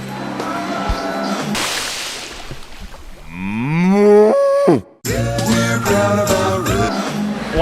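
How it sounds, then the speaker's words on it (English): Cows moo loudly and repeatedly in a rotary milking parlor, with long drawn-out calls overlapping each other amid the hum and clatter of the parlor equipment. "Workers lining the parlor near the entry point prep the cows after they hop aboard."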